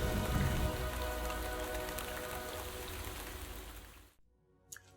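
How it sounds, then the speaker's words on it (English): Steady rain patters densely on a surface, loud and close, then stops abruptly near the end, leaving near silence. "the sky filled with clouds, and God sent rain to Samaria"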